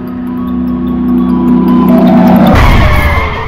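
An ice cream truck crashes in an audio-only driving game: a steady engine drone with a tonal hum builds, then a sudden loud impact breaks in near the end, followed by scraping, rattling debris noise.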